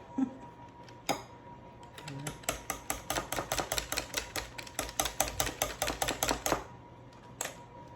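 A hand-cranked egg beater whirs through Caribbean black cake batter in a bowl, producing a steady run of quick rattling clicks for several seconds before stopping, followed by a lone clack at the end.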